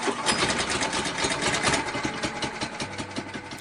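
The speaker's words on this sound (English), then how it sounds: "if you've never seen a forklift run by a lawnmower engine, well, that's what that is right there." A forklift powered by a small lawnmower engine runs steadily at close range, giving a continuous buzzing, rattling putter at an even idle with no voices over it.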